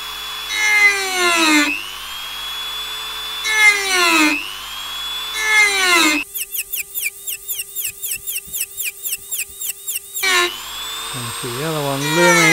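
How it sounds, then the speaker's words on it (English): A Dremel rotary tool with a small barrel cutter marks a series of cuts around a turned redgum box, giving a high whine in short rhythmic bursts between longer steady stretches of motor sound. "I'm going to use the Dremel. It's got a little barrel cutter in it."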